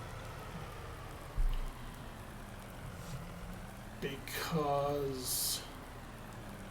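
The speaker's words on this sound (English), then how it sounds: "We have rain all morning." Rain falling in the farming video game Farming Simulator 19 on the Ungetsheim map, a steady hiss throughout with a faint engine idling underneath and someone briefly talking over it.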